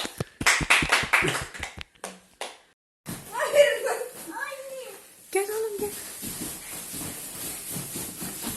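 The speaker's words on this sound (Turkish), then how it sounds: "Evet alkışlıyoruz Yiğit'i" Children and adults at a Turkish April 23 children's festival clap in a quick, rhythmic burst for about two seconds. Lively chatter and children's voices follow, with scattered light claps underneath.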